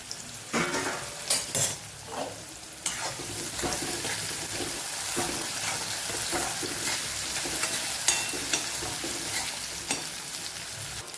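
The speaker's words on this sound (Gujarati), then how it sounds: "વચ્ચે આપણે એકવાર હલાવી દઈશું" Ivy gourd cooking in a pan, a continuous moderate sizzle with irregular scraping and clattering strokes from a spoon stirring the pieces through the whole stretch.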